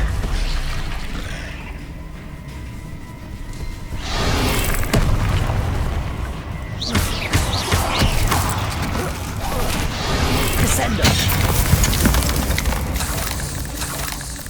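Fire spell Incendio cast in the Hogwarts Legacy video game, giving a sustained roar of booming, crackling blasts and mechanical rumbles that swell and recur over about fifteen seconds, with no voices.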